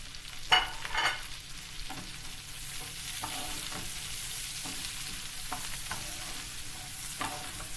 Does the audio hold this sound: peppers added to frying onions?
yes